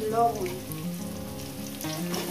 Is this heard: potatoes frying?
yes